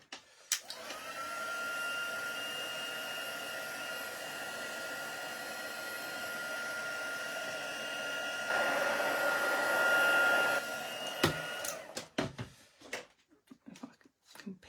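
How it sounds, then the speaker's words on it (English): Heat gun blowing hot air to lift paper in a crafting session, a steady close whooshing roar that lasts about ten seconds, briefly rising louder near the end, then cutting off, followed by light handling clicks and taps. "Let's see if I can get this up with the heat gun."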